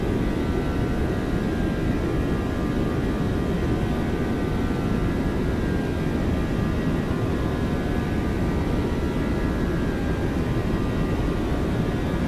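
Simulated Boeing 737-800 on its takeoff roll in X-Plane 12, a steady loud broadband jet engine roar with rumbling low end, constant and unbroken throughout.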